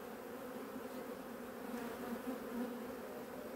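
Honey bees buzz in a dense, continuous hum while a hive nucleus is being made, the swarm close and steady with no voices.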